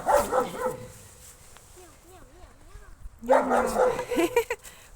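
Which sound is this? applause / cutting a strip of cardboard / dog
dog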